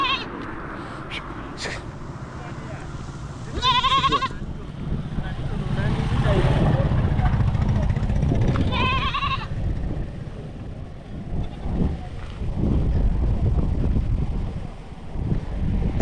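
Goats bleating at a busy open-air market in Kenya, two sharp wavering bleats standing out near the mic over wind buffeting, crowd bustle and people talking.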